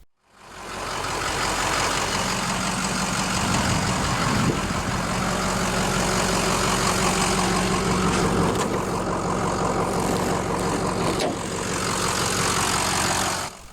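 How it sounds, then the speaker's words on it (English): A 2007 Ford F-350 Super Duty Lariat with the 6.0-liter Power Stroke turbodiesel V8 idles with a loud, steady diesel rumble and turbo whine, close and unbroken, without voices. "Powering this F-350 is the available Power Stroke 6-liter turbodiesel V8 engine."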